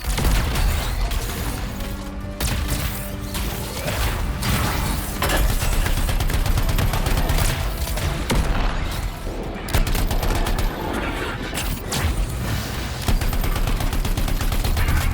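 Enemy turrets firing in the Anthem video game: sustained rapid automatic gunfire with dense bursts and booms, loud and continuous throughout, layered over a busy combat soundscape.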